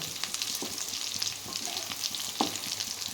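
Stuffed bitter gourds filled with kabuli chickpeas fry in a pan, giving a steady close sizzle with occasional stirring clicks throughout, no voices.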